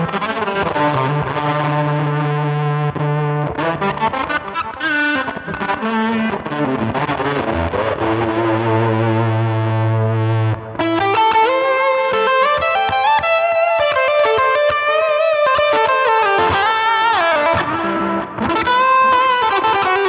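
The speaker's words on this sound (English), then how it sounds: "getting a very unique distortion out of it, which we can actually shape using the texture control" Electric guitar played through a Line 6 POD Go multi-effects unit, with a distinctive distortion shaped by its texture control; loud, saturated chords and sustained notes in continuous phrases with no talking.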